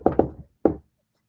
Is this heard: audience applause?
no